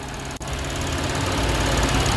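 2014 Lexus IS250 AWD with a 2.5 liter direct-injected V6 idling under the open hood, a steady, even mechanical hum heard up close with one brief dip near the start.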